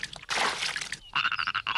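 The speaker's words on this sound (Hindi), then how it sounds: "वो देखो उन मेंढकों को।" Cartoon frogs croak in a rapid burst, then a second run of chirpy, pulsing croaks follows after a brief gap, loud and close with no talking.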